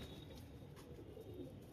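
Pigeons coo softly in a loft kept for fancy breeding pairs, low murmuring calls under a steady background hum, with no talking.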